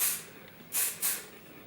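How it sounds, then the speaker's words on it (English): Osis Extra Hold hairspray sprays from a can while a bridal ponytail is styled, giving a brief hiss at the start and then two short, close bursts a moment apart. "Use my hard spray now. I'm gonna use Osis Extra Hold Spray."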